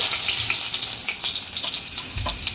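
Garlic going into a mustard-seed tempering in hot oil gives a loud, steady crackling sizzle that runs throughout, with a few low thumps and bursts of spatter and no talk.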